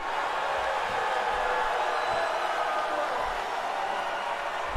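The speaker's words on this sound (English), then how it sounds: "You can hear the boos trailing off there though" A wrestling arena crowd at an E.F.W. event gives a steady, dense roar of booing and mixed noise that fills the space and gradually thins out toward the end.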